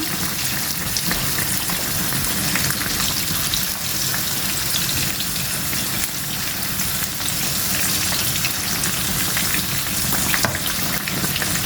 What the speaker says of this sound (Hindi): इसको जलाना नहीं है, सिर्फ थोड़ा सा डार्क ब्राउन करना है लहसुन को।